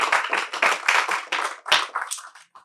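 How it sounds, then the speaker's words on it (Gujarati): An audience claps to welcome speakers onto the stage at a Gujarati literary event, a fairly close, steady patter of hands that thins out toward the end. "આપણે ખૂબ તાળીથી વક્તાશ્રીઓનું સ્વાગત કરીશું"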